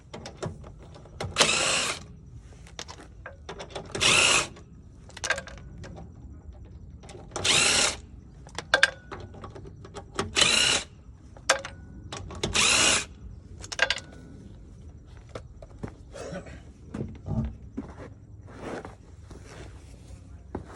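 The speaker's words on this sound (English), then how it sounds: "have a little power tool, make it faster instead of hand" A power impact tool spins off wheel lug nuts on a 2005 Subaru WRX during a brake pad job, firing in about seven short loud bursts separated by quieter pauses with faint background noise.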